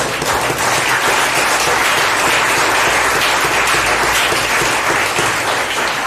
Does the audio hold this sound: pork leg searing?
no